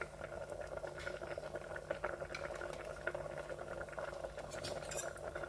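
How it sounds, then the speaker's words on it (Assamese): A pot of potato curry with vinegar bubbles and simmers steadily, with soft popping and occasional faint clinks of utensils. "ভাঙি পেলাই মই উতলিবলৈ দিম।"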